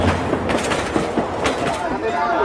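Namkhana local train at Lakshmikantapur station, heard as a steady rumble and rattling of rail cars throughout, with speech-like crowd chatter mixed in.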